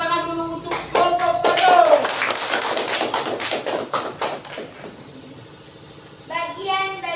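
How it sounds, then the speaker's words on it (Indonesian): Children in a classroom clapping for a group, a burst of rhythmic hand claps that grows loud then fades, with children's voices and tones around it. "Jadi tepuk tangan dulu untuk kelompok"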